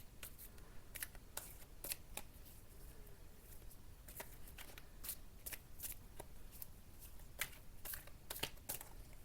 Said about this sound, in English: I don't mean to shuffle for so long